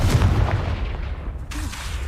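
Confringo blasting spell explosion in the Hogwarts Legacy video game, a dense booming blast with rumbling low end that fills the clip and tails off, then a brief renewed burst near the end.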